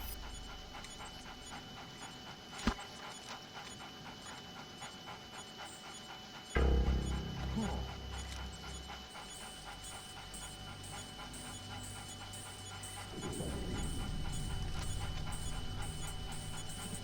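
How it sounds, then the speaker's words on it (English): A dog pants for a long stretch after following a scent trail, its rapid breaths steady and close. A sharp knock and a couple of louder thumps and rustles interrupt it along the way. "Gonna be hearing that dog pant for a while."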